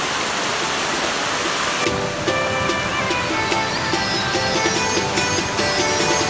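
A waterfall at Alibeng in Sison, Pangasinan, roaring as a dense, loud, continuous rush of falling water close by, with a faint ringing tone layered over it partway through.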